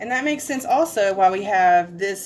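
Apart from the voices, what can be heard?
No distinct noise like a dog, phone or traffic.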